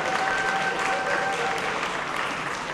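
Steady applause from an audience at MOCAFest, dense clapping filling the space evenly from start to finish with no pauses.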